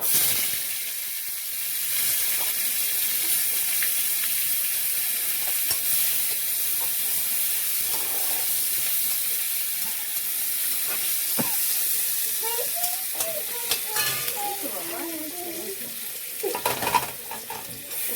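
Chopped onion sizzles in a hot pan with cinnamon while chicken curry cooks, a steady close frying hiss throughout with occasional stirring scrapes and clinks near the end.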